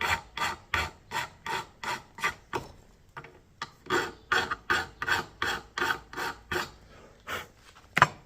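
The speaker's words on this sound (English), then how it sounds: "you can just sand these all the way down with a file or a belt sander" Metal pins in a knife handle being filed down by hand: a close series of sharp, rhythmic rasping strokes with a brief pause partway through and then another run of strokes.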